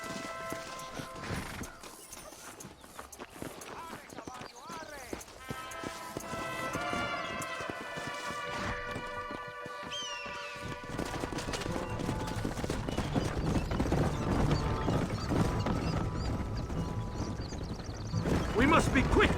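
A horse's hooves clip-clopping at a walk in the Western video game Red Dead Redemption, steady and moderately close, with a whinny-like tonal passage and a building musical and ambient bed around it.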